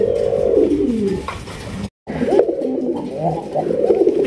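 A maxi-coloured male pigeon coos close up in repeated low, throaty, rolling calls, with a brief silent gap midway.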